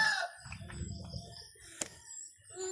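A rooster crows once amid a noisy outdoor scene, with a sharp brief burst and low rumbling background, fairly close but not loud.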